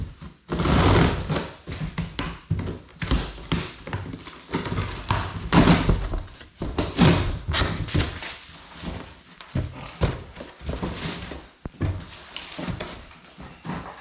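A sturdy cardboard box holding a two-chair and table play set is opened and the parts are pulled out, giving a steady run of close thumps, rustles and knocks with no talking.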